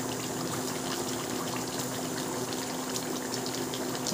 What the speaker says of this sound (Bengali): ঝোলটা ফুটে গেছে